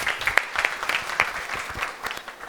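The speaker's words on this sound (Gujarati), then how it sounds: "પહેલાં તો જે જવાબ આપે એના માટે આપણે તાળીઓ પાડીએ." Seated listeners at a spiritual talk give a round of applause for a respondent, a moderately loud scatter of hand claps with distinct individual slaps, fading somewhat toward the end.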